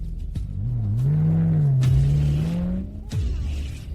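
A luxury car rolls in with a smooth engine hum that rises and holds steady, then fades, close and fairly loud, with a few sharp knocks before and after and no talk.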